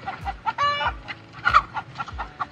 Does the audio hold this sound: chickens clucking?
yes